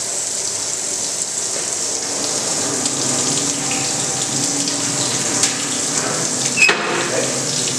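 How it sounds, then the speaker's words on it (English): Cooling water runs from a tap for a water-cooled rock saw used to cut thin sections, a steady splashing gush that stays constant throughout, with a few brief clinks near the end. "So we have to initially turn on the water."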